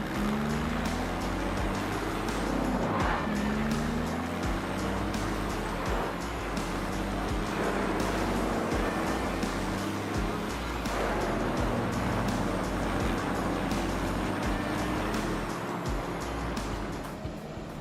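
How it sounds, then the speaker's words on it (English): Diamond Z A6000 wood grinder running, a loud continuous heavy machine roar with rhythmic surges and grinding crunches as material feeds through, steady for the whole stretch. "Diamond Z A6000 grinder, the important role in recycling and biomass production, ensures effective waste management and sustainable use of resources."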